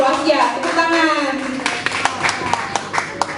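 Hand clapping from a small gathering, starting under a speaking voice and then continuing as a run of sharp, fairly close claps at an uneven rhythm.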